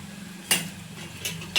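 A utensil stirs egg bhurji topped with coriander in a pan, giving three sharp metallic clinks against the pan over a quiet kitchen hum.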